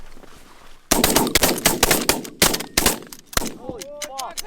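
Rapid volley of loud shotgun blasts fired by several hunters during a Wisconsin goose hunt, a dozen or so close shots in quick succession, followed by honking geese and excited shouting.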